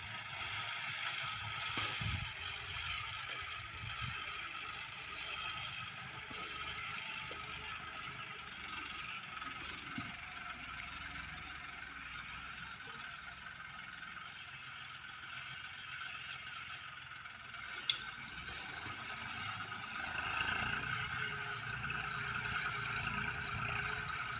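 A John Deere 5050D tractor plows a flooded rice field, giving a steady, fairly distant engine drone with occasional mechanical clanks and rattles.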